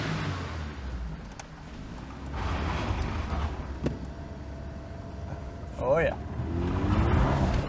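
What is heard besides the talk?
Merkur XR4Ti engine revving in a tunnel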